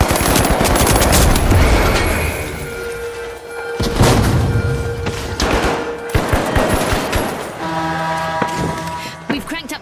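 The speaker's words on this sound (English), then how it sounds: "Throwing a frag." In the arena shooter The Finals, rapid bursts of automatic gunfire mix with a heavy frag grenade explosion, loud and chaotic, with booming thuds and repeated volleys over roughly ten seconds.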